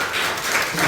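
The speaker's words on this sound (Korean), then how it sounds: "사랑 속에서 박수 한번 부탁드리겠습니다." A church congregation applauds during Sunday service announcements, a short burst of steady, moderately loud clapping from many hands with a faint voice beneath.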